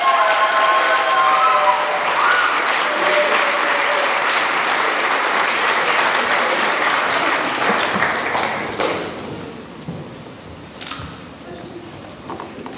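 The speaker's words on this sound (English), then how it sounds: "let me offer a great round of applause and congratulations for the class of 2013" A school commencement crowd applauds the graduating class of 2013, loud sustained clapping that thins out and fades over the last few seconds.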